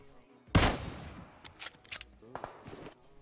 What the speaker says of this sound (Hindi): वो लोग उधर से गोलियां चला रहे हैं